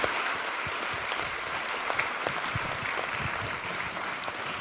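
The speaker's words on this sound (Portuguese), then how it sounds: "pedir uma salva de palmas a eles." Audience applause at a pro-democracy rights event in Brazil, a dense, steady wash of clapping from a crowd that holds for several seconds with no talk over it.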